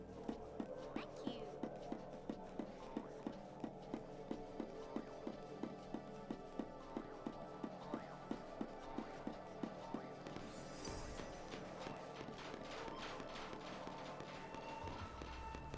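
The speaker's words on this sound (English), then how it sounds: "I love the stomping sounds they make." Creatures stomp in Final Fantasy XIII, giving a steady, evenly spaced thudding rhythm of footfalls for about ten seconds before fading, with a soft voice and game ambience underneath.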